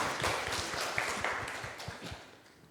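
Congregation applauding together in a church during a Sunday worship service, a steady wash of many hands clapping at moderate distance that gradually thins and fades toward the end.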